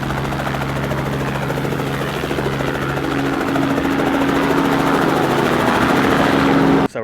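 A helicopter thumps loud and close with fast, steady rotor beats for several seconds, then stops abruptly at the end.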